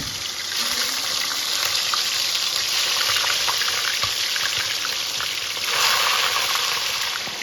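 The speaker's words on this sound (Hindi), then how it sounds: "इसमें हम फ्राई कर लेंगे सारे चिकन के पीसेस।" Chicken pieces frying in hot mustard oil for Kashmiri liss te kokur, a loud, continuous sizzling hiss with occasional crackles and a brief swell near the end, heard close with no talking.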